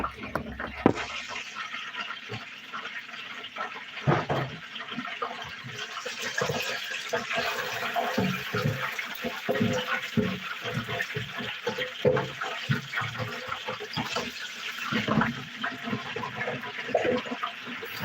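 Tap water runs steadily into a bowl to rinse rice for sweet and sour chicken wings, a continuous splashing, gurgling stream close by that lasts throughout, with faint clinks mixed in.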